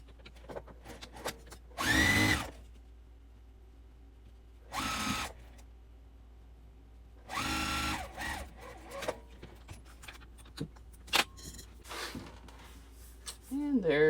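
A sewing machine stitches quilt block seams in short, loud bursts separated by pauses, with handling noises and a voice speaking in between.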